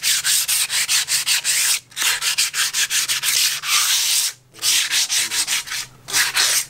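Sandpaper rubs a bonsai pot pillar in fast, rhythmic back-and-forth strokes, a close, hissy scratching broken by a few short pauses.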